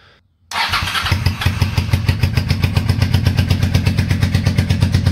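A 1984 Honda Shadow 700 motorcycle engine runs on only its rear cylinder, starting abruptly after a brief quiet moment and then idling loud and close with a steady, lumpy pulsing beat.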